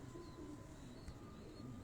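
Pigeons of a fancy breed cooing on a rooftop at Golra Sharif, faint low murmuring coos under steady outdoor background noise, with no clear voices.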